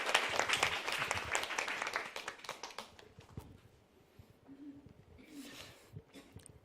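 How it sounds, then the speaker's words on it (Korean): An audience at a Korean church service bursts into loud clapping that fades after a couple of seconds, leaving sparse scattered claps and faint murmuring in the room. "박수로 환영하죠"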